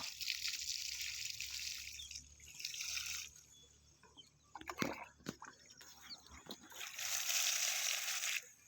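Liquid oil cake solution is poured onto the roots of a jasmine plant, giving soft splashing and trickling water sounds in bursts, with a few brief knocks in between and a quieter pause in the middle.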